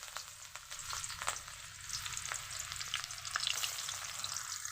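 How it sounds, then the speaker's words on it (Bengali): Chopped onion frying in hot oil, a soft hissing sizzle with scattered light crackles and occasional spoon taps that grows a little louder toward the end, heard up close and alone. "তেলের মধ্যে দিয়ে দিব পেঁয়াজ কুচি"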